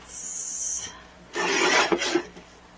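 Cardstock being trimmed to size for a pattern panel: a brief scraping slide, a pause, then a longer rasping cut ending in a couple of small clicks, close and fairly quiet.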